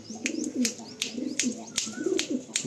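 Andhra pigeons coo softly in a loft, low burbling calls repeating over one another, punctuated by sharp clicks and occasional faint chirps nearby.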